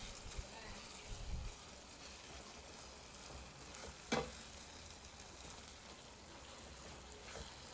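Soaked basmati rice is frying in a pan for veg biryani, giving a soft, steady sizzling hiss with a single scrape of stirring partway through. The sound is faint and continuous.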